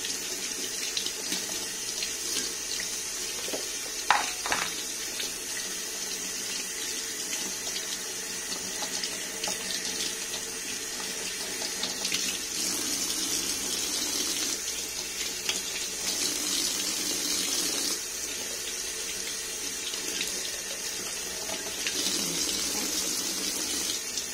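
Steady tap water runs into a sink while freshly harvested ginger from a backyard garden is washed, a continuous close splashing flow with a few sharper knocks and handling sounds early on, no voices.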